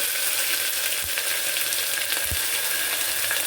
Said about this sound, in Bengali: পেঁয়াজের পেস্টটা থেকে একটুখানি এখন একটু ছিটকাচ্ছে কারণ যেহেতু এটা জল আছে